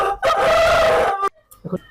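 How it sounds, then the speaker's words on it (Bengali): A native Bangladeshi aseel rooster at a village market crows once, loud and close, in a single sustained call of about a second, then falls quiet except for a few soft clucks. "মোরগটা দেশি মোরগটা অনেক সুন্দর রাখছেন"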